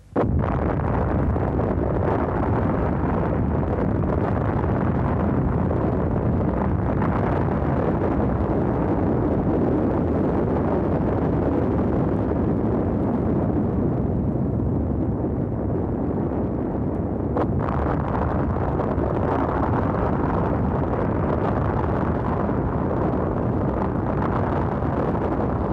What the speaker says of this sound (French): La première explosion nucléaire sous-marine du monde.